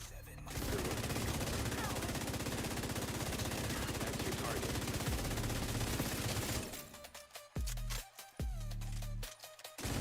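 Sustained rapid automatic gunfire in The Division 2, a loud dense burst lasting several seconds, then giving way to a few separate heavy shots and short bursts with gaps between them.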